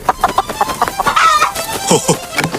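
A chicken clucks repeatedly up close in quick, uneven bursts, with a brief rising squawk partway through.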